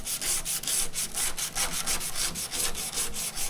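Metal being hand-sanded with an 80 grit sticky pad, a rhythmic raspy back-and-forth scraping in steady quick strokes, close and moderately loud.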